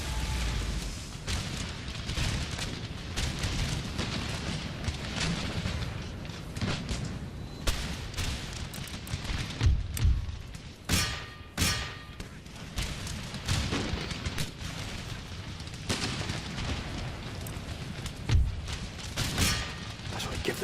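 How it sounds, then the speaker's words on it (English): Artillery fire in the Empire: Total War video game, a dense battle din of repeated booming cannon shots and crackling volleys over roughly twenty seconds, with someone talking over it. "Now we've got the gun, we've got the artillery support. Come on, lads, give us that fire support here."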